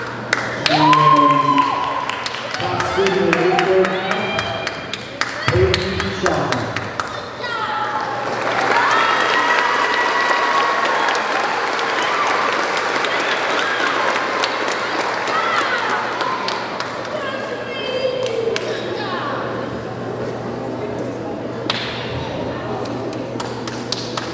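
At a junior high awards night, a school audience applauds for top students, a sustained wash of clapping through the middle, with talk from a speaker before it and a voice heard over it.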